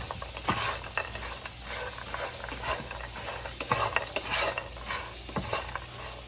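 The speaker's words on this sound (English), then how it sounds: "and I'm hearing some sizzle." Spiced pecans cooking in a pan with butter or coconut oil give off a soft, steady sizzling hiss, broken by occasional light taps and scrapes of stirring.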